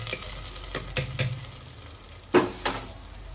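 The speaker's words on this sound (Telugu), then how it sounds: "వెల్లుల్లి కరివేపాకు, ఇలా వేడి వేడిది దీంట్లోకి వేసుకొని మిక్స్ చేసుకోవాలి" Hot garlic and curry leaf tempering hits mango dal with a loud sizzle, then crackling and frying close by as it is stirred in, with a few clinks of a spoon against the pot.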